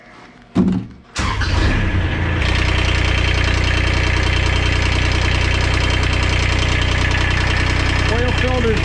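A Kubota RTV 900 utility vehicle's engine cranks over briefly, then catches and settles into a steady, close, loud running drone with a constant low hum that fills the rest of the clip.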